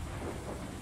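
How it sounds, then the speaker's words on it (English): Rain and thunder in the video game Veloren: a dense, steady wash of rainfall over a low rumbling roll, filling a brief moment with no voices. "this rain is beautiful"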